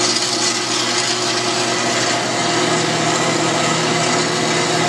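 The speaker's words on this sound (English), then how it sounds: "a little noisy here because I'm using my metal cutting bandsaw here" A metal-cutting bandsaw cuts steel stock for a UTV frame, producing a steady, loud, close grinding rasp with a constant motor whine that runs without a break.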